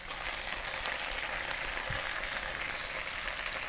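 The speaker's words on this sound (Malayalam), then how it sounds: "പാത്രം ചൂടായതിനു ശേഷം അതിലേക്ക് കുറച്ച് വെള്ളം തളിച്ചു കൊടുക്കുന്നു." Water sprinkled into a hot pan while cooking Kerala fish dishes, giving a loud, continuous hissing sizzle that stays even throughout, with no voices.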